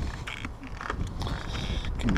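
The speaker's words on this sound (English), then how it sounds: "Can you hear my rubber shoes?" Squeaky rubber shoes step across wooden planks near the beach on St George Island, Florida, a few soft squelching squeaks and creaks over a steady outdoor background.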